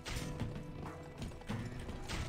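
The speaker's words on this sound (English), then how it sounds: "I'm riding my horse too hard" Galloping hooves of a horse in the western game GUN, fairly faint rhythmic thudding in a repeating pattern of beats amid background game sound, no talking.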